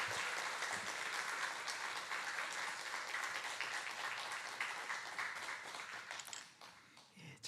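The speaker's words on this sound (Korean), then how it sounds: "뜨겁게 박수로 환영해 주시기 바랍니다." A church congregation at a Wednesday service claps steadily in a sustained round of applause welcoming a pastor, fairly distant, tapering off near the end.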